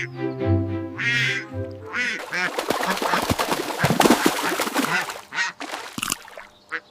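Cartoon ducks quack in a greedy-fox fable, a flurry of sharp, nasal bursts following a character's voice, loud and close with a few scattered final calls.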